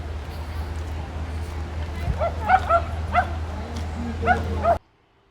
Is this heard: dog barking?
yes